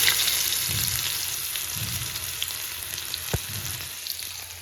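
Onion dropped into hot oil already crackling with mustard seeds and chilli, a steady close sizzle with bubbling bursts and one sharp pop partway through.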